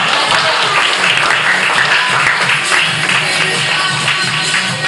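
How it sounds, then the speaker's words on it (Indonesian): An indoor audience at a seminar claps steadily and loudly, dense applause continuing without a break. "Sekali lagi tepuk tangan Ibu sekalian"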